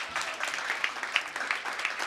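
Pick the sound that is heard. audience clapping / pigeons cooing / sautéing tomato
audience clapping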